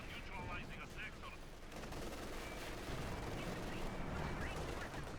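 Company of Heroes 2 battle with Panzer and Soviet T-54 tanks, heard as a dense, continuous crackle of gunfire and distant cannon shots, fairly faint, with voices mixed in.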